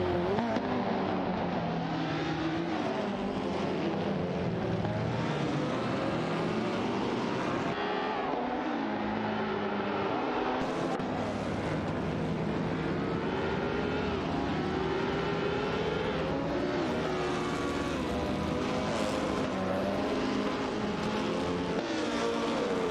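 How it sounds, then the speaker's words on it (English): AI race cars zooming past, a continuous mix of high revving engines with rising and falling pitches as cars sweep by, layered and fairly loud throughout. "we're just watching some speedy AI race cars zooming by"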